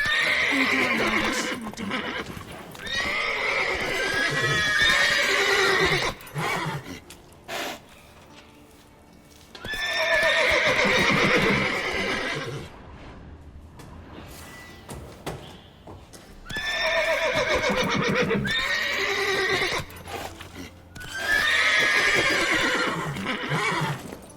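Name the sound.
horses neighing and hooves, from a video game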